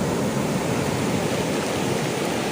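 Large ocean waves at a beach, roughly six metres high, rolling as a continuous loud roar of surf with no distinct breaks.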